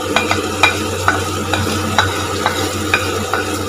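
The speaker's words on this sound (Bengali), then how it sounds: "আলু আর মাছ ভাজাটা দিয়ে দিলাম।" Fried potatoes and fish go into a pan of sizzling curry masala for a Bengali pabda fish curry, a steady frying hiss broken by regular scraping stirs about every half second, close and clear, with no talk.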